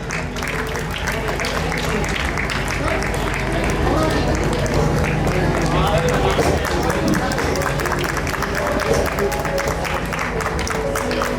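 An audience at a school annual function in Suratgarh claps loudly and steadily for children, a dense, sustained wall of applause lasting the whole stretch, with voices mixed in.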